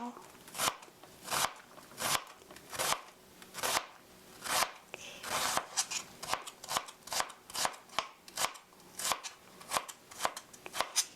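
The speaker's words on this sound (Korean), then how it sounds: "돌려서 찹스 다져주세요" A knife finely chopping onion on a cutting board, steady quick rhythmic knocks close up, bunching into faster runs partway through, with someone speaking softly at times.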